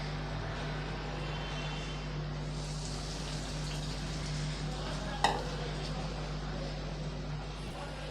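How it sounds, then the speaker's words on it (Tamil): Bread and semolina sweet frying in oil over a medium flame until golden brown: a steady, close sizzle that runs throughout, with a single sharp clink of a utensil partway through. "மீடியம் ஃப்ளேமில் வச்சு நல்லா பொறிச்சு எடுத்துக்கோங்க"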